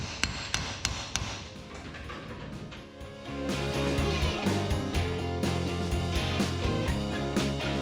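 Sharp metallic claw hammer strikes ring out in a quick series, then a denser run of banging blows continues steadily, close and loud, while removing an axle seal on a 1928 Ford Roadster.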